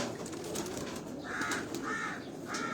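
Pigeons on a Karachi rooftop coo softly in three short, throaty calls over a low, steady background hum, with no one talking.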